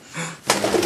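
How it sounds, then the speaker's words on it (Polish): Pigeons in a loft nest give soft, close coos and rustling, a low murmur first and then a brighter flurry of calls. "oni już grają z gołębiami w gnieździe"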